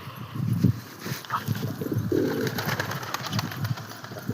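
Pigeons cooing softly nearby, low throaty calls over a steady background hiss.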